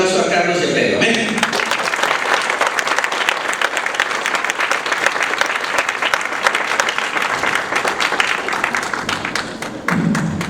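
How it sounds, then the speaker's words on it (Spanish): An audience at a church gathering breaks into loud, sustained applause for two people, dense clapping from close by that lasts about eight seconds before fading, with a voice briefly heard at the start and again at the end. "Pues recibamos un fuerte aplauso a Carlos y a Pedro"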